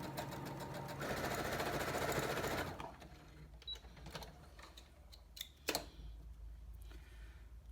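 A sewing machine stitches a fabric panel, buzzing steadily for nearly three seconds before stopping, then faint clicks and handling sounds follow with one sharp tap.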